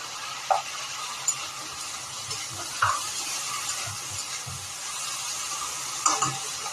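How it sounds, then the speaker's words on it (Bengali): Dry spices with salt and turmeric scraped and stirred around a hot pan, with a faint steady crackle and occasional sharp clinks of the utensil against the metal. "দেখতে পাচ্ছ আমি এটা কাঠখোলায় ভাজছি"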